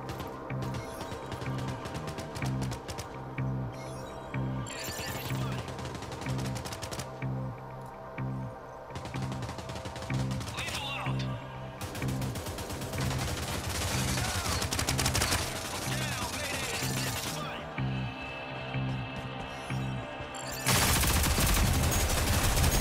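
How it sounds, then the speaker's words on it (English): Rapid gunfire from the Rogue Company shooter game on PS5, dense bursts of automatic shots rattling almost without pause for over twenty seconds, loud and close, with a heavier stretch near the end. "I was already shooting you first."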